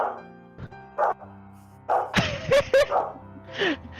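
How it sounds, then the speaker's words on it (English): A dog barks several times in short bursts, some distance off, with other background noise and a few sharp thuds mixed in. "it always sounds like it's barking that same distance away from you"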